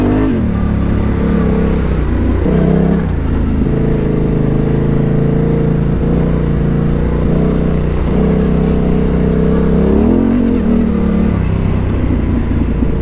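Yamaha Tenere 700 motorcycle ridden on rocky trails, its engine droning steadily up close with small rises and dips in revs over continuous rough riding noise, no talk.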